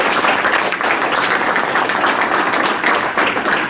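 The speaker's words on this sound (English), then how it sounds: "let's give Michael a great big round of applause again" A live audience gives a big round of applause, a dense, loud, steady wash of clapping that holds evenly from start to finish with no talking over it.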